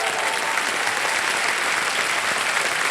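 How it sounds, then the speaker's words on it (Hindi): Studio audience of a televised quiz show applauding a family contestant, a dense steady wash of clapping filling the whole moment, loud and close with no talk over it. "तालियां बज जाए इनके लिए।"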